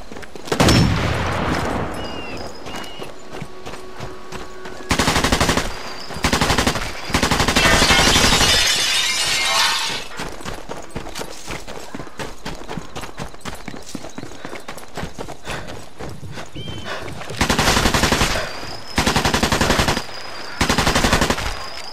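Rifle shots ring out on a shooting range in Sniper Elite 4, loud and close, fired in repeated bursts and single cracks separated by short pauses, with echoing tails.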